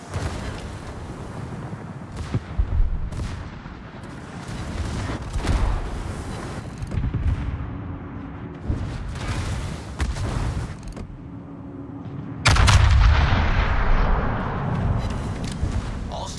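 Yamato battleship main guns firing in World of Warships, heavy booming salvos and rumbling blasts at irregular intervals over ambient battle noise, with a loud broadband blast near the end.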